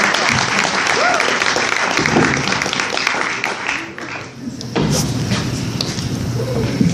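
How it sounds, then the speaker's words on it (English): Loud, sustained applause from a crowd at an evening poetry reading, with a few cheers mixed in, dipping briefly before surging back to full strength. "So give her a big round of applause."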